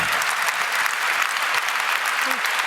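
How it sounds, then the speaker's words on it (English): An audience applauds at a public talk, a dense steady clapping from a crowd that holds throughout, fairly loud and close with no voices over it. "Applause, applause, applause."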